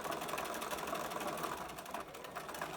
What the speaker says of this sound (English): here with my 6mm seam allowance backstitch to the corner, down the diagonal